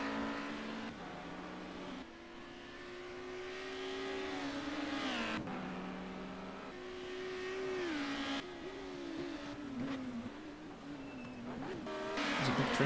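Several race cars drive in a tight pack during a racing video game on a Helsinki circuit, engines droning and shifting pitch close by with occasional revs, steady and loud throughout.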